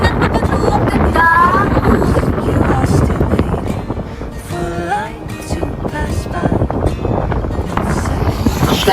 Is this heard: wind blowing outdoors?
yes